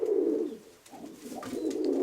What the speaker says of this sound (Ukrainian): Як оце молодий голубок.